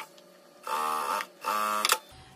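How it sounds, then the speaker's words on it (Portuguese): Sewing machine stitching a pencil-case lining close to the zipper teeth, two short whirring bursts of stitching separated by a brief pause, fairly near and alone. "Venho com o último forro e vou costurar bem rente"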